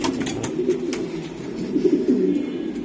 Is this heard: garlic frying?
no